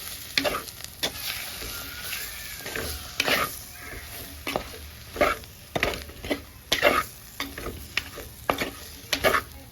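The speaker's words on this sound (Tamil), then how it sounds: "போட்டு பச்சை வாசனை போகும் வரைக்கும் கிளறி விடுவோம்." Spice powder stirred and frying in a pan, with repeated scraping strokes of a spoon over a steady low sizzle, the bursts coming in an uneven rhythm close by.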